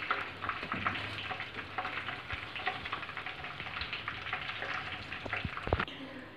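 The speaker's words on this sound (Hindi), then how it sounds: "इसी तरीके से हम बाकी की भी सारी फ़िश फ्राई कर लेंगे" Lahori fish fries in hot oil, a dense, close crackling sizzle with occasional utensil clinks and scrapes, steady and without talk.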